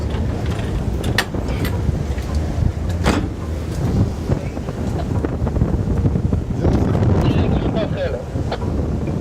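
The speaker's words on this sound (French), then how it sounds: "Le bruit du vent dans les oreilles, l'effet du vent sur le visage" Strong wind buffets the microphone in continuous rumbling gusts, with occasional faint voices and movement underneath.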